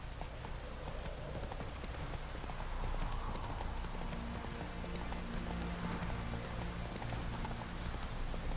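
Steady clip-clop of the horse Roach's hooves in The Witcher 3: Wild Hunt, a continuous trotting rhythm with a soft rain-like wash behind it and no talking.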